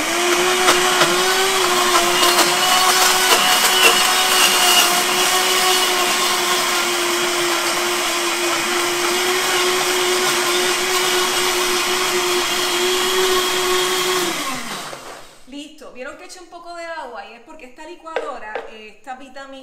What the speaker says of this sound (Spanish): Vamos a licuar esto.